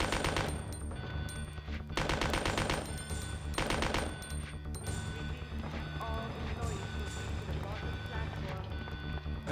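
Machine gun fire in the PS1 game Resident Evil 2 comes in dense rapid bursts that repeat through the scene, loud and steady, with game music and sound effects underneath.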